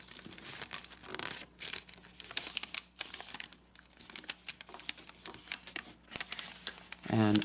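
Paper being folded into an origami valley fold, giving close crinkling and crisp creasing rustles in irregular bursts, with a voice talking over parts of it.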